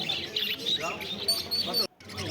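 Caged lovebirds and finches chirp and tweet at a busy bird market, a dense layer of high calls under crowd chatter, with a brief silent cut near the end.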